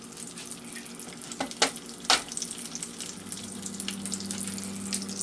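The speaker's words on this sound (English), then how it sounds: "we'll get these eggs fried" Eggs frying in a pan for a hangover breakfast alongside brisket, a steady soft sizzle running throughout with a couple of sharp clatters near the start, close by and with no talking.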